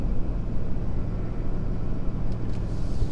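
A 6.7 Powerstroke diesel truck tows a trailer uphill in fourth gear at steady, low revs, giving a continuous close-up drone from inside the cab with no talking.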